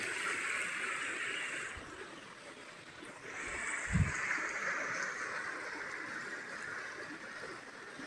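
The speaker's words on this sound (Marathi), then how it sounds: "छोटा ओढा आहे शेतीच्या कडीला त्याला आलेलं पाणी बघा" Floodwater from heavy rain rushes through a small stream beside rice paddy fields, a continuous watery wash with a brief dull thump partway through.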